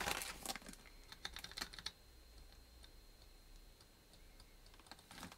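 Keys are pressed on a Cherry G84 keyboard with ML switches and ABS printed caps, a quick flurry of close, crisp clicks at first, then scattered softer taps against a quiet background.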